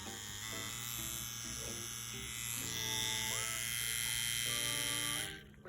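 A CNC-WE tattoo machine with a newly changed eccentric wheel runs with a steady, even electric buzz and a tonal whine that holds for several seconds before cutting off at the end.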